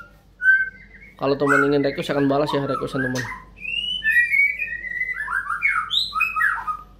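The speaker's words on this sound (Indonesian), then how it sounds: "itu dia murai batu saya yang overbirahi ketika digantangan" A caged white-rumped shama (murai batu) in breeding condition sings bright whistled phrases and chirps, near and clear, while someone speaks over part of the song.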